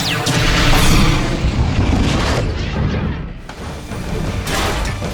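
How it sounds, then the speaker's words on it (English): A large arc reactor overloads and explodes in the Iron Man film: a loud, heavy boom followed by rumbling, crashing blast noise that slowly tails off. "Stane dies in the explosion."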